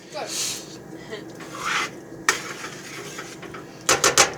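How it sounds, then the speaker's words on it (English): Tortellini stirred in a pan, a utensil scraping and rubbing along the bottom in irregular strokes, ending in a quick burst of metallic clatters, close and moderately loud. "So now all I have to do is stir it, make sure nothing got stuck to the bottom"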